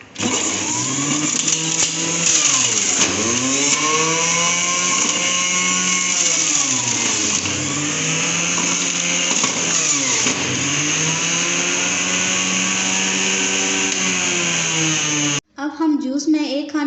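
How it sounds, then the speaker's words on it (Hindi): Electric juicer motor whirring steadily as peeled, washed carrots are pushed through, a loud continuous drone with pitch sagging and rising under load for about fifteen seconds before cutting off. "अब हम गाजर डाल के इसका जूस निकालेंगे।"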